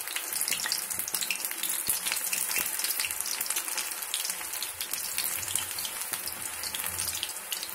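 Cauliflower 65 pieces, restaurant-style Gobi 65, fry in hot oil with a dense, crackling sizzle that stays bright and steady throughout, close up and with no talking.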